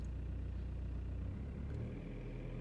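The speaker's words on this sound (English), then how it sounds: "as I rev it up, see mass airflow reading goes up" A TDI diesel engine, just fitted with a new mass airflow sensor, revs up from idle in a steady low rumble that swells partway through, heard up close with no talk.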